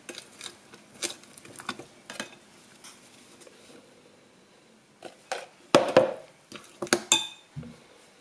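Batter being mixed in a bowl after flour is added, with quiet, irregular clinks and scrapes of a utensil against the dish that grow into a louder, busier cluster near the end.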